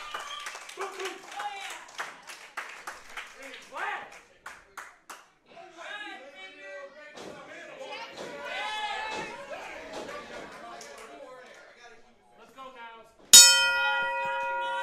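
A wrestling ring bell rings out sharply to start a main event match, a bright metallic clang with long ringing tones that follows a stretch of announcer talk and crowd noise.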